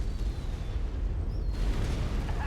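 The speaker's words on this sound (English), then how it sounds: "Commander's kill is about to explode" A mech explodes in the MechWarrior 5 video game, a dense rumbling roar of explosion and debris that holds loud and steady for more than two seconds over the game's combat backdrop.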